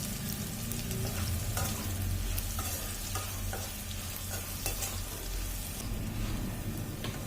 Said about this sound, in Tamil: இந்த வத்தல் பதத்தில் நம்ம அதை நல்லா வதக்கி எடுத்துக்கணும்